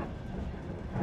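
A passenger train rolling along, heard from inside the carriage as a steady low rumble with faint rattling, continuous and even.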